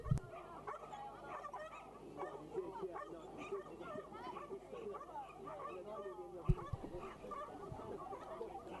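A Border Collie at an agility competition gives scattered yips and barks amid a busy, crowded indoor arena, with a public-address commentator talking throughout and a sharp thump near the end.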